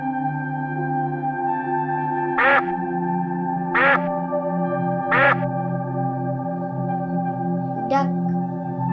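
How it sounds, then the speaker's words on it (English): A duck gives three evenly spaced loud quacks followed by a fourth, fainter quack, set over a steady sustained musical drone. "Duck."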